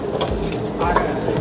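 Dried red chillies fry in a wok for an Indo-Chinese Schezwan paneer, crackling and scraping under short bursts of stirring, close and fairly loud, with faint background voices.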